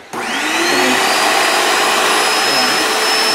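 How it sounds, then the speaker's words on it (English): A Graco Magnum X5 airless paint sprayer is switched on with its suction tube in the paint. A loud, steady motorized whine and pump hum start abruptly and hold without a break, with no voices. "We're going to turn the power switch on and watch for paint to come out."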